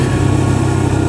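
A steady, droning engine hum of a Honda PCX scooter while riding runs throughout, low and continuous at constant speed, with no talking.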